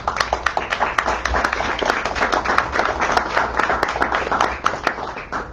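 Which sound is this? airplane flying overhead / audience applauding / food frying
audience applauding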